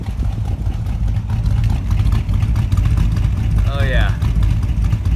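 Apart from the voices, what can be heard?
1957 Ford Fairlane engine revving, exhaust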